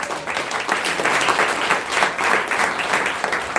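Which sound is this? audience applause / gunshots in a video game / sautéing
audience applause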